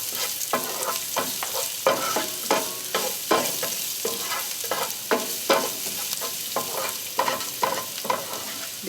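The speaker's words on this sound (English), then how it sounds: "you just want to temper the garlic a little bit" Garlic tempering in a pan for an Indian vegan butter cauliflower curry, a steady sizzle broken by repeated scraping stirs at an uneven rhythm, close and fairly loud with no talking.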